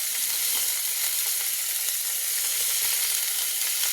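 Food fries in a pan with ginger, garlic and black pepper in a home kitchen, giving a steady, close, hissing sizzle that runs unbroken throughout with no talk over it.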